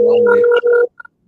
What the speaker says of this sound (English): Excuse the phone that's ringing; it's not ours.